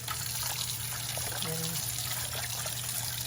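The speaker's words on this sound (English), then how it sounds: "So I just got hot water" Hot water running steadily onto an old glass piece set on a towel to soak, a continuous close trickling and splashing stream that fills the whole stretch.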